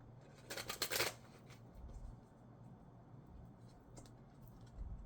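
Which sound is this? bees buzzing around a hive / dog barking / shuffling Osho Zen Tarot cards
shuffling Osho Zen Tarot cards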